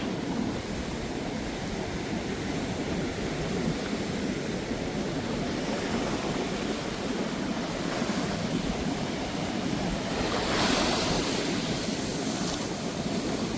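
Sea waves break continuously on the shore at a Jaffna coastline, a steady broadband roar of surf with wind buffeting the microphone and a slightly louder wash near the end.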